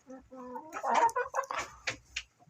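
Roosters and hens cluck and call inside a chicken coop, a close run of short squawks and clucks in uneven bursts, with some talk mixed in.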